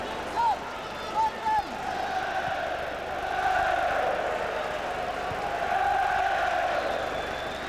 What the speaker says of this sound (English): Every pass being applauded by the Celtic fans, who are having some night